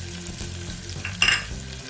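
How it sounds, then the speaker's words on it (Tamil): Onion being sautéed with green chilli and ginger-garlic paste for coconut milk kuska, a steady close sizzle with a brief louder stir around the middle. "பேஸ்ட் இதெல்லாம் சேர்த்து நல்லா வதக்கி விடுங்க"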